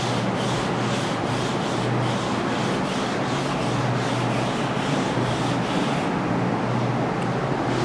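Writing being rubbed off a classroom board, a loud, continuous scratchy rubbing with rhythmic back-and-forth strokes that ease near the end.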